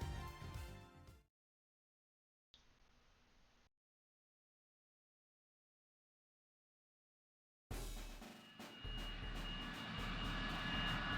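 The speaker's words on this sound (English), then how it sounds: "we're back on a plane" Airplane engine drone from the Ace Attorney Investigations 2 video game, a broad roar that comes in at full volume, cuts to silence with a brief quiet hiss in between, then returns loud and steady.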